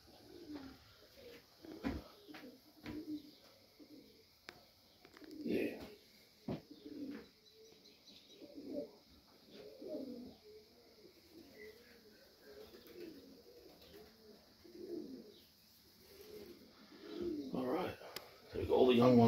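Pigeons coo in a loft, a soft, continuous run of repeated low coos with occasional rustling, fairly quiet throughout, while a person talks at times.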